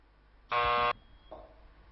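A single harsh electronic quiz buzzer sound lasting about half a second, loud and close, followed by a quieter, shorter tone.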